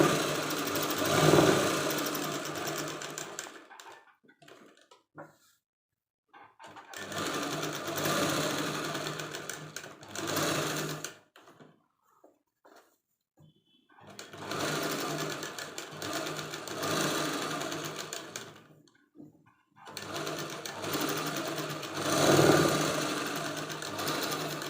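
A sewing machine stitches the lining onto a blouse at the neckline in several bursts of steady mechanical whirring, separated by short pauses, close and fairly quiet.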